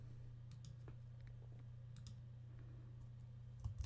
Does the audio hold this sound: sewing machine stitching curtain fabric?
no